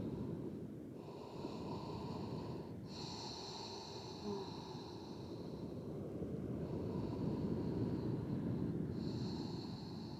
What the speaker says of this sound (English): taking 5 deep breaths here